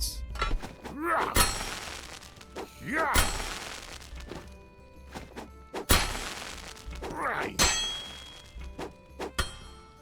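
Hammer strikes on hot metal at a medieval blacksmith's forge in a crafting game, a few loud ringing thuds spaced a second or two apart, with faint voice-like sounds between them.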